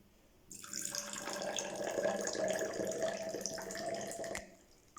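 Limewater solution pours steadily into a flask in a lab setting, a continuous close splashing stream lasting about four seconds before stopping, with no talk over it.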